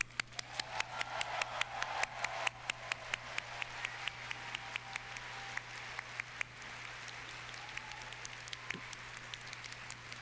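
A keynote audience at a Final Fantasy XIV fan festival breaks into loud, sustained applause, a dense wash of many hands clapping that carries on throughout and eases slightly toward the end, over a low steady hum.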